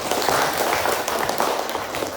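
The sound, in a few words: students clapping for classmates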